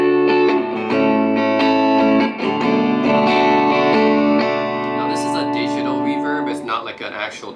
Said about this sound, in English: So if you put the reverb around 12, it sounds like this.